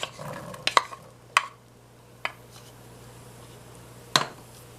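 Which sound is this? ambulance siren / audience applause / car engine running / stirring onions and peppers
stirring onions and peppers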